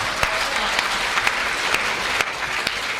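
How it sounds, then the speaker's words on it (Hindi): An audience at a Hindi poetry gathering claps steadily for three seconds, a dense even patter of many hands with a few sharper claps standing out near the front. "तालियां पीछे वाले कम बजा रहे हैं,"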